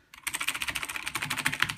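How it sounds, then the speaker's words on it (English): Fast typing on a Razer BlackWidow Tournament Edition mechanical keyboard, a dense rapid clatter of loud clicky keystrokes starting abruptly and continuing steadily, close up with no talking. "It's a Razer Black Widow Tournament Edition."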